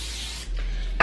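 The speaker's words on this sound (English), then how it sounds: "I'm gonna start out by spraying a baking sheet with some nonstick cooking spray" Nonstick cooking spray hisses from an aerosol can onto a baking sheet in two short bursts, close and fairly loud, with a brief pause between them.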